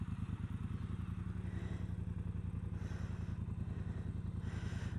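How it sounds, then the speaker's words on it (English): Triumph Bonneville Bobber motorcycle engine idling with a steady, close, low rumbling pulse and a few light clatters, no voices present. "as you can hear, it's got a very nice little rumble to it"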